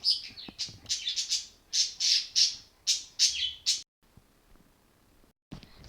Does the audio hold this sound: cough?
no